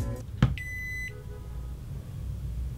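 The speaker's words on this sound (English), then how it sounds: "we've beeped and we're charging wirelessly" A short electronic beep from a wireless charger as an iPhone starts charging rings out once, clear and steady for about half a second, after a brief click, then a quiet room hum continues.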